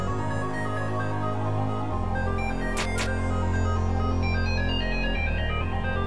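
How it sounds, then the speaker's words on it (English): Phone ringing in the game Undertale: a steady electronic ringtone holds throughout with a short shift in tone partway, alone with no talk. "Pretty easy puzzle when the phone's not ringing."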